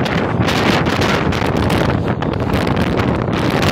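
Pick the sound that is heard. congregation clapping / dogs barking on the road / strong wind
strong wind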